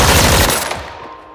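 Rapid gunfire during shooting practice in a film, a dense burst of shots that fades away over about a second.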